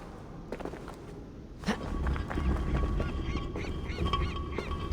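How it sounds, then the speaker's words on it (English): Inside a cave in Assassin's Creed Valhalla, seagull-like bird calls squawk repeatedly over shuffling footsteps and game ambience, moderately loud and close. "Is there a seagull in here?"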